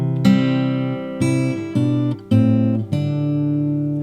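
Fingerstyle acoustic guitar plays a measure of a song, with several plucked chords and bass notes ringing in sequence, each struck clearly and left to sustain.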